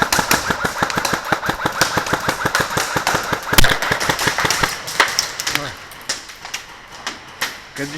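Airsoft guns fire during a close-quarters battle game, with a fast steady stream of sharp mechanical shots for several seconds that thins to a few sporadic pops, close by.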